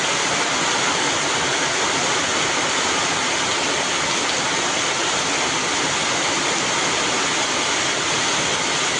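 Heavy downpour of the first monsoon rain over a Konkan village, a dense, unbroken roar of falling water that stays loud and even throughout, with no voices.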